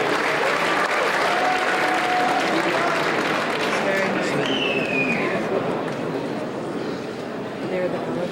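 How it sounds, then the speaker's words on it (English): A crowd applauds award winners at a world cup event in Las Vegas, a loud, dense, sustained wash of clapping lasting throughout, with a few whoops and voices mixed in. "Let's have another round of applause for them."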